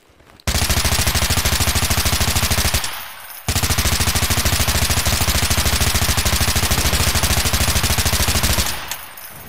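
A silenced rifle in Garry's Mod fires long rapid-fire bursts, dense even clattering shots close and loud, two sustained strings separated by a brief pause, with no talk.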